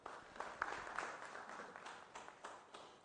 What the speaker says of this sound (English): another round of applause for Mr.